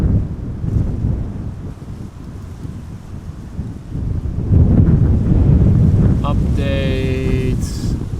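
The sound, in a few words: strong wind at Amsterdam Schiphol Airport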